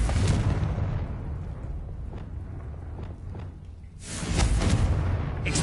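A Confringo blasting spell in Hogwarts Legacy goes off with a heavy booming explosion partway through, after a dull rumbling lead-in, the blast close and loud with a rough decaying tail.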